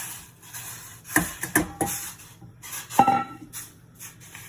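A spoon scrapes and clinks against a pan while stirring lemon meringue pie filling, a few sharp metallic taps and scrapes spaced irregularly between soft rubbing, close and fairly quiet.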